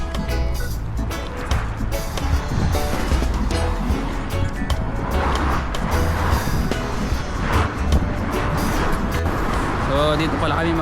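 Steady road traffic rolls past a snowy bus stop in Serbia, a continuous wash of passing vehicles with people talking nearby over the noise.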